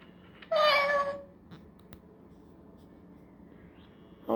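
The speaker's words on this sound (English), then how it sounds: "It's a battery-operated cat." A battery-operated toy cat, bought at a garage sale, gives one short electronic meow near the start, then quiet room tone with faint small clicks follows.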